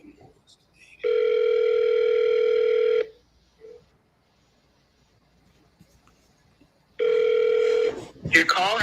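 Telephone ringback tone on an unanswered outgoing call, two long steady rings separated by silence, close and clear, with a brief voice at the end.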